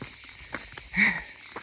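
Pine-wood cicadas near Tourrettes-Levens keep up a steady shrill drone, with a few soft footfalls and a brief chirp breaking through over the chorus.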